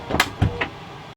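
A Winnebago Boldt 70KL motorhome's powered entry door operates in a few short mechanical bursts: three quick clunks and whirs spaced about a fifth of a second apart, close by, then a quiet hum that cuts off sharply.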